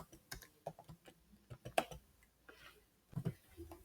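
Quiet keystrokes on a computer keyboard, irregular clicks and taps at close range with brief pauses between bursts of typing.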